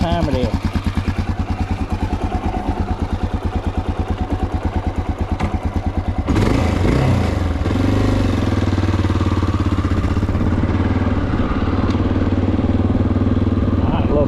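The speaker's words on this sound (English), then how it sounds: "Fires up like a Honda. Listen to that exhaust." Honda XR650L motorcycle engine idling with a steady, loud, rhythmic exhaust thump, then the revs rise into a rougher, louder roar partway through that holds to the end.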